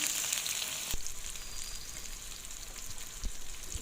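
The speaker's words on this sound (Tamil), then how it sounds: "ஆயில் ஹீட் ஆனதுக்கப்புறம் கடுகு உளுத்தம் பருப்பு போட்டு பொரிஞ்சதுக்கப்புறம் காஞ்ச மிளகாய் போட்டு தாளிக்கணும்" Mustard seeds, urad dal and dried chillies sizzle and crackle steadily in hot oil, with a few sharp pops and a light clatter of stirring, close up and without voices.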